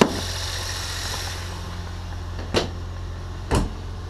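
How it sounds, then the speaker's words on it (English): Hood of a Lexus IS300 shutting twice, each a brief dull thud against a low steady engine-bay hum, fairly quiet and close, no voices. "Hood closes all right."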